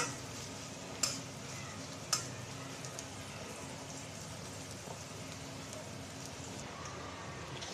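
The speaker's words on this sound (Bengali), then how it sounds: "ভেজে নেব পেঁয়াজ রসুনটা লাল লাল করে ভেজে নেব" Chopped onion and garlic fry in a pan until reddish, a faint, steady sizzle with a couple of small sharp clicks near the start.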